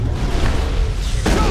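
A warp biotic power blast from the Mass Effect video game lands as a loud, booming burst that swells and then surges again near the end, dense and close amid continuous game noise.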